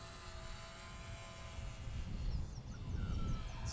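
An XK A220 P40 RC micro plane flies at full throttle, a thin steady motor whine with a faint high tone that swells slightly louder toward the end, set against outdoor background noise.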